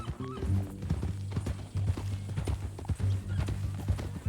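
Horse hooves clip-clop in the Red Dead Redemption 2 western open-world game: a steady, close, rhythmic run of hoofbeats over a low game ambience, with a brief whinny-like sound near the start.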